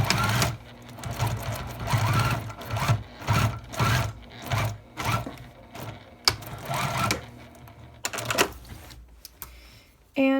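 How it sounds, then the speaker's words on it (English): A sewing machine sews across the corner of a plastic-lined makeup bag to square off the bottom, running in repeated short, close bursts of rapid stitching separated by brief pauses. "you can make a square bottom on it by taking the point and sewing across it."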